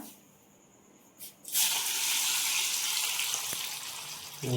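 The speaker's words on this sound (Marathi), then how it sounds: "आणि मग ते कढईमध्ये आपण सोडले ना की असे तडतडायला लागतात" Salted jackfruit pieces drop into hot oil in a wok over a village wood-fired stove, setting off a sudden loud, steady crackling sizzle that continues strongly for several seconds.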